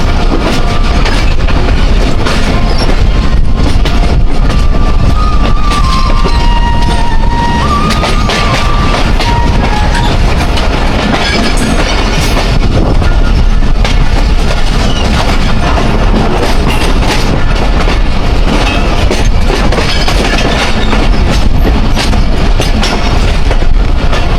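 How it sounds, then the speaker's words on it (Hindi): The Thall Express rumbles loudly and continuously over the track toward the platform near a junction on the Jand to Multan line, with steady rolling noise and faint clickety-clack from the wheels, no voices. "ये हमारी ट्रेन इस ट्रैक से गुजर के प्लेटफॉर्म पे जा रही है।"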